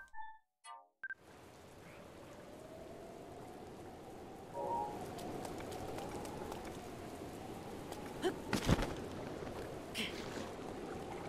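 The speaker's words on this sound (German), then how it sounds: "Ach nein, ich kann nicht klettern, es regnet." Steady rain hissing across the landscape in the video game Zelda: Breath of the Wild, a continuous soft wash after a few brief menu-like tones at the start, with occasional louder splashes and clicks later.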